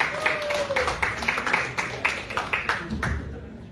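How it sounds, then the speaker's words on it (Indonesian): An audience claps in a steady burst of applause for Bapak Adi Setiago at an evening Tai Chi poetry event, the clapping dense and moderately distant, tapering slightly near the end. "Kita beri tepuk tangan sekali lagi buat Bapak Adi Setiago"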